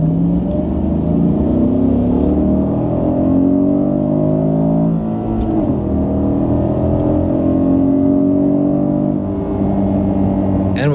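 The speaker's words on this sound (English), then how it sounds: "And with this beautiful V8 sound" A Porsche Panamera with a V8 engine drives on the Nürburgring Nordschleife, giving a loud, continuous rumbling drone that rises and falls in pitch as it revs through gears.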